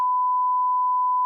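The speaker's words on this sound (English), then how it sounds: "we'll beep it out" A single steady censor beep holds one pure tone for just over a second, loud and alone, covering a spoken word in a storytime conversation.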